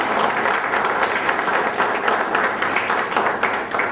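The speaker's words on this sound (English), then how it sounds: "Give him a big round of applause" Audience applause at an architecture thesis awards event greets the first participant, a dense, steady wash of many hands clapping close up for several seconds.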